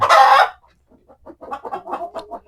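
A loud squawk bursts out first, then a run of soft, rapid clucks from frightened native chickens nearby on a farm, fairly steady and close.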